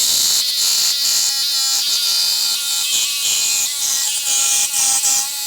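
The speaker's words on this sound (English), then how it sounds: "we now are ready to cut our little angle, and we'll just do that with our jigsaw" A jigsaw cuts an angle into wooden ribs in a workshop, a loud steady high-pitched buzz with rhythmic blade strokes running continuously throughout.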